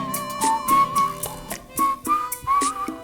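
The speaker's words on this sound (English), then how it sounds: "You can't beat a song with a whistle." A melodic whistle carries the tune in a smooth jazz song, with clear sustained whistled notes gliding between pitches over a soft backing of keys and bass.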